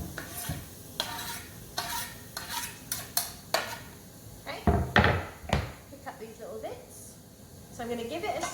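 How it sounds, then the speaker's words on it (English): Vegetables cooking in butter and oil in a saucepan over low heat get stirred with a wooden spoon, giving repeated scraping and knocking strokes with a soft sizzle beneath, while a person talks over it. "So I'm going to give it a stir with my wooden spoon"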